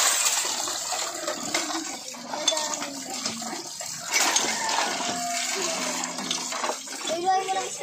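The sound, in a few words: water rinsing dishes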